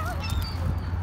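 Geese honk in a few short nasal calls, close and clear over a steady low outdoor rumble on a cold day in Calgary, Canada.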